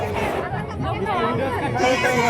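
Crowd at a Mahashivratri fair in Maharashtra, a dense hubbub of many overlapping voices chattering close by, continuous throughout.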